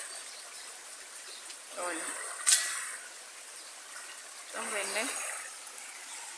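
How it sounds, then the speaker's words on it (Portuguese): A stream of water runs through a cornfield on a rural farm, a soft steady trickle heard at a distance beneath a man's occasional speech. "E o córrego passa bem aqui"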